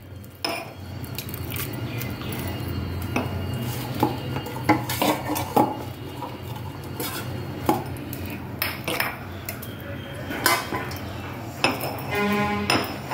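Rice appalam mixture pounded with a pestle, likely an iron pestle in a home kitchen, gives repeated dull thuds mixed with metallic clinks at an irregular rhythm, close and moderately loud.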